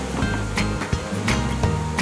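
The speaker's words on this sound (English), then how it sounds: "Craig's using a chute so that he can pour the concrete exactly where the builders need it." Wet concrete pours steadily down the chute of a mixer truck with a reversing drum at a new road site, a continuous rushing, surf-like wash with a few heavier thumps and surges.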